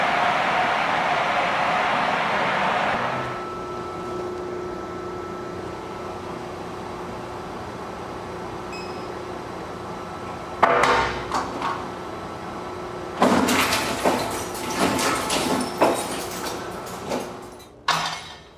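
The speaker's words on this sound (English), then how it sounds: "Let's go shred some hard drives." Huge industrial shredder tearing through wiped hard drives at a data center, a loud grinding, crunching din arriving in rough bursts after a stretch of steady machine hum.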